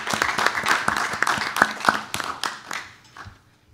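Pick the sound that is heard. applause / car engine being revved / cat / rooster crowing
applause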